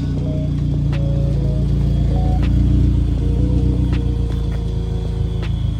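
A car fitted with a Spec-D aftermarket exhaust idles with a deep, steady low rumble, loud and continuous with no voices over it.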